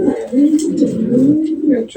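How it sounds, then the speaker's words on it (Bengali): A female pigeon coos in soft, repeated low throaty phrases, close and steady across the clip, with a few faint higher chirps in the background. "এটা একটা মাদি কবুতর"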